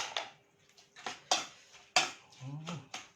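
A utensil scrapes and clinks against a bowl in irregular strokes, close by, with a few sharp taps between quieter stirring sounds, as a Thai apple snail salad is mixed.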